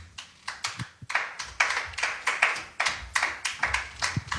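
A church congregation claps in rhythm, sharp regular hand claps in a fairly even beat, close and moderately loud, with no talking.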